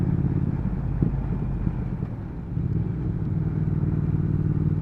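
A 2019 Triumph Speed Twin motorcycle engine on a test ride produces a steady, low, throbbing drone with slight dips and rises in throttle, close and continuous throughout.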